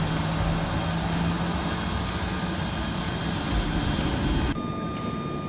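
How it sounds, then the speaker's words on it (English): A C-27J Spartan's Rolls-Royce AE 2100-D2A turboprop engines run up with a loud, steady turbine roar and high whine, close by, cutting to a quieter engine hum near the end. "starts up two powerful Rolls-Royce AE 2100-D2A engines"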